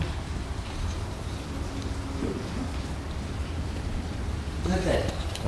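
Rain leaking through a roof indoors, with a basin set out to catch it, makes a steady, fairly loud hiss that runs the whole time, with voices talking over it near the end.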